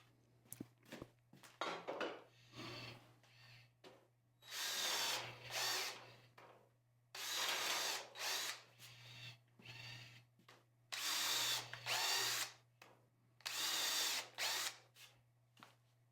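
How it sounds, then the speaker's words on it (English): A power drill whines in several bursts of a few seconds each, drilling holes through 2x6 lumber bridle joints, separated by short pauses and light handling clatter, close and fairly loud. "he will drill 2 holes through each of those bridle joints"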